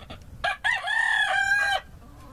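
A game fowl rooster crows once, loud and close, a single drawn-out call of about a second and a half after a short clucking lead-in, with no talk over it.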